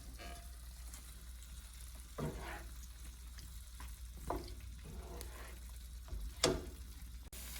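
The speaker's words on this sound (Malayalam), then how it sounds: "ചിക്കനെല്ലാം ഇതിനകത്തേക്ക് ഇട്ട് നന്നായിട്ട് ഇളക്കിയെടുക്കാൻ പോവാണ്." Chicken stirred into biryani masala in a pan on the flame, a faint steady sizzle with a few louder scraping stirs of the spoon at intervals, no talk.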